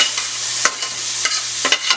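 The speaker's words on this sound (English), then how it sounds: "That's all I have in there. Is sauteing the onion." Onions sauteing in a pan for a Bajan-style quiche: a soft, steady sizzle with scattered sharp clicks and scrapes of stirring, close and alone with no voices.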